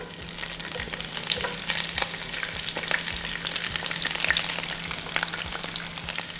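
Fajita vegetables hit hot oil in a skillet and crackle and sizzle steadily, with scattered pops and the scrape of stirring, close and clear with no talking.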